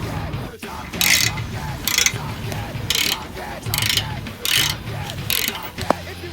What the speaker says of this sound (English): a 9/16 is going to take this bolt off.